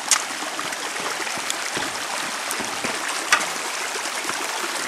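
Water flowing smoothly through a sluice box outdoors, a steady, close rushing trickle with small splashes and gurgles scattered through it, alone and with no talk.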